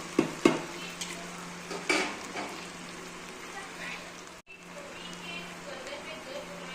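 Coarsely crushed ingredients for a dal khichdi being stirred and sautéed in a pan: soft sizzling under a few spoon clinks and scrapes, fairly quiet, with someone talking over it.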